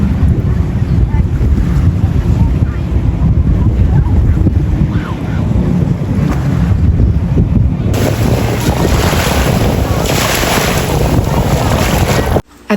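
Waves breaking on a Gold Coast beach with strong wind buffeting the microphone, a loud continuous roar of surf and gusts throughout, briefly cut off at the very end.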